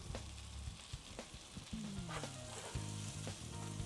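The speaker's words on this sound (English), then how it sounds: "I'm going to toss this for maybe a minute until my spinach wilts" Spinach tossed and wilting in a hot pan gives a steady close sizzle, with scraping and clattering stirs, a squeaky pan-shifting slide, and tonal scrapes from the utensil against the metal.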